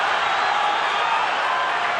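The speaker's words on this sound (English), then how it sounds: "Listen to the crowd's reaction as Pacquiao scores." A boxing arena crowd roars in a dense, continuous wash of cheering as Manny Pacquiao lands punches against Oscar De La Hoya, loud and sustained throughout.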